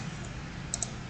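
Two quick, faint computer mouse clicks in graphics software, close together near the end over a quiet background hum.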